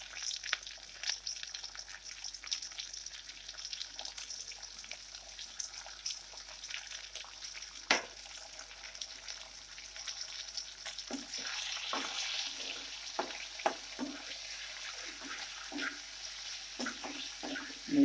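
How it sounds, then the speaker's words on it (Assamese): Salted shark fish pieces frying in a pan, a soft, steady crackle and hiss with scattered sharper pops that grow a little busier toward the end. "এতিয়া মাছখিনি ভাজিম আমি।"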